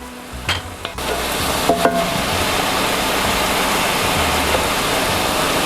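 Sausage, onions and peppers cooking together in a pan, a loud steady sizzle and bubbling hiss that fills the whole stretch after a couple of brief clatters at the start.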